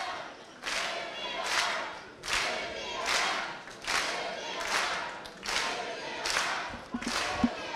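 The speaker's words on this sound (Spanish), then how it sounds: "Aplauden el esfuerzo de las dos boxeadoras acá desde la arena" Arena crowd applauding two female boxers between rounds at a WBO light flyweight title fight, with repeated swelling waves of clapping and cheering, loud and close, rising and falling every second or so.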